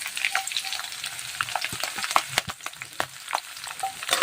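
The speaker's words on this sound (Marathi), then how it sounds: "एक मिनटं छान अशी मिरी तळून घ्यायची" Finely chopped green chilies fry in hot oil in a pan for upma, a close, crackling sizzle with frequent sharp pops and light stirring clicks, alone without talk.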